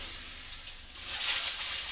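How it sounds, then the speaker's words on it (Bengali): Eggs seasoned with salt and turmeric fry in hot oil, giving a steady, close, bright sizzling hiss that swells slightly louder partway through. "এবার ভেজে নিচ্ছি সুন্দর করে। লাল লাল করে ভেজে নেব ডিমগুলো"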